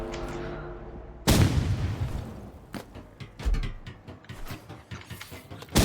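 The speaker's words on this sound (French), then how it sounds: "Et grenade du coup." A grenade goes off in the shooter game Rivals with a sudden loud blast, followed by a rapid scatter of sharp gunfire-like cracks and thuds over the next few seconds.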